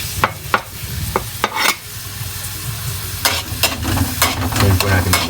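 Garlic sautés in a hot pan for adobong sitaw, with a continuous sizzle and repeated sharp scraping strokes of a stirring utensil close up.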